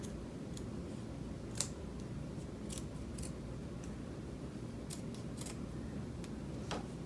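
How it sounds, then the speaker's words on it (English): Scissors cut fabric for punch needle art in sharp, irregular crisp snips, close by over a quiet steady background hum. "you could use a scissors then to cut"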